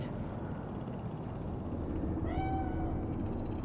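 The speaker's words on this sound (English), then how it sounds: "Do you see it? The cat." A single short meow from a cat in the video game Cyberpunk 2077 rises over a steady, dense rumble of city ambience, fairly faint but distinct.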